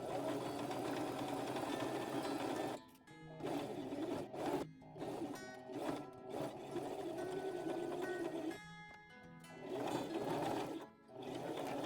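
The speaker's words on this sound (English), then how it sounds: "I'm just going to go crazy with the sewing machine" A sewing machine stitching fabric scraps runs in steady bursts of rapid stitching, pausing briefly several times before starting again, close and fairly quiet.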